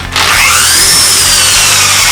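Power drill spinning a polishing attachment against a guitar body while fixing dings and finish chips, a loud, close, steady whirring hum that starts abruptly and holds for a couple of seconds.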